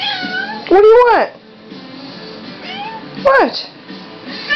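A cat meows loudly at close range, giving two drawn-out, rising-and-falling calls with a quieter stretch between them.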